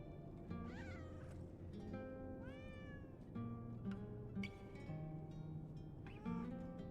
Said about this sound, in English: You can pick up the cat now.